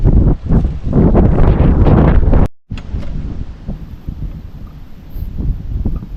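Strong wind buffets the microphone with loud rumbling gusts, then drops briefly and continues as a softer, steady blowing.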